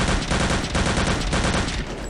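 Rapid bursts of loud gunfire crackle continuously, dense and harsh, like automatic weapons firing in a close firefight in the video game Return to Castle Wolfenstein.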